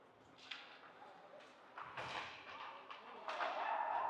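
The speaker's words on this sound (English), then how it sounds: "You hear that satisfying when it's our goalie thump of a leg pad save." A hockey puck thumps off a goalie's leg pad during a youth 14U AA ice hockey game, a dull thud among several soft knocks and arena noise, fairly faint and distant.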